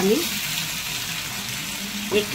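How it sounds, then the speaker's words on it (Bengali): Ash gourd pieces coated in poppy seed paste sizzle as they drop into hot oil, a steady crackling fry with a brief stirring or scraping sound near the end. "আমি পোস্ত দিয়ে যে চাল কুমড়োটাকে মেখে রেখেছিলাম ওটা আমি তেলে দিয়ে দিলাম।"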